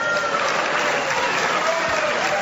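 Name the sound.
crowd applauding at a boxing match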